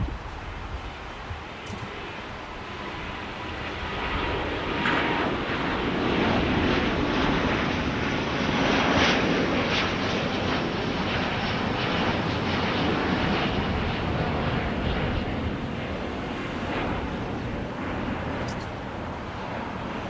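A Delta Airbus A330-941 takes off from LAX bound for Paris, a broad, loud jet engine roar that swells toward the middle and holds as a steady rumble throughout.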